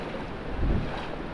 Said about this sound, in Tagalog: grabe ang alon eh